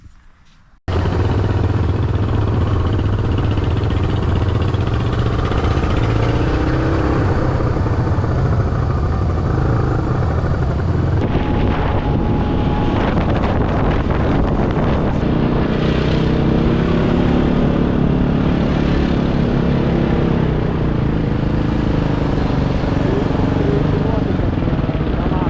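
Motorcycles ride along a road in Bulgaria. A loud, steady engine roar starts abruptly and holds for over twenty seconds, rising in pitch as the bike revs, with strong wind rush throughout.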